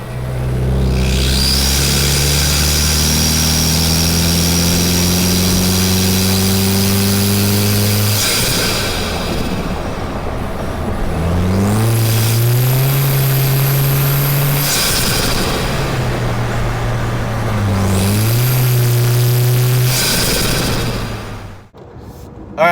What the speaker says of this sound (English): I just did a few sound bites with the DJI mic under the hood right by the intake box